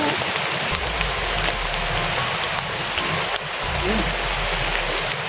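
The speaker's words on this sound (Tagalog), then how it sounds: "Kasi umuulan." Steady rain patters and hisses on a surface, a dense continuous wash of drops with a low rumble underneath.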